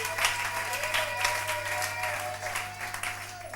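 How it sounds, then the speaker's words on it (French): A church congregation applauding, with sustained, even clapping from many hands filling the room, moderately distant, with a low steady hum beneath it. "Est-ce qu'on peut acclamer la parole du Seigneur?"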